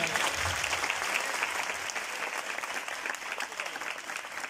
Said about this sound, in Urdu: میں چاہوں گا یسوع کے لیے زوردار تالیاں